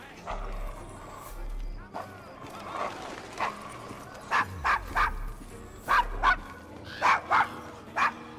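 A dog in the video game Assassin's Creed Syndicate, set in a rough Victorian London slum, barks in several short, sharp bursts, growing more frequent, as people talk nearby.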